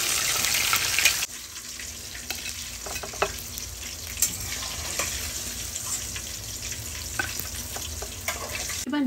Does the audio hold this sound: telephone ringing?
no